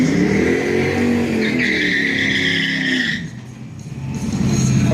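A car engine revs loudly and holds a high whine at a Race Wars drag event, then drops off and builds again, close and dominant with no talk.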